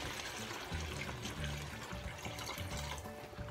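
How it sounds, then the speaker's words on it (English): Water pours into a hot pan of onion burgers to deglaze it, a steady splashing gush with sizzling underneath, fairly quiet and continuous. "take your enough water to deglaze that pan"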